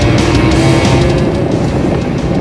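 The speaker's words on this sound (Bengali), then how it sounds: "একটু জোরে এক্সেলারেট করলে কিন্তু ভালোই পাওয়ার নিচ্ছে" A go-kart at a track in Pattaya, Thailand, accelerates with a loud, steady engine roar that holds close and continuous throughout, with no talking over it.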